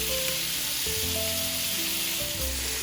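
Chicken tenders frying in an oiled pan give a steady, close sizzle with dense crackle throughout, while a low tonal hum drones underneath.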